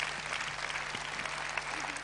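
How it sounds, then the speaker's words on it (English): An audience at a motivational talk gives a big round of applause, a dense, steady patter of many hands clapping throughout the short stretch. "Give a big round of applause."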